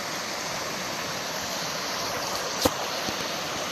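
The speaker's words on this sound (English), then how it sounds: "the way the water runs through this little channel" A small stream runs through a narrow channel about three to four feet deep along the Appalachian Trail, with a steady, close rushing and burbling that holds evenly throughout, plus one brief knock near the end.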